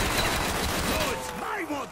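Rapid bursts of gunfire in a zombies shooter game crackle steadily and loudly for about two seconds, with voices talking underneath toward the end.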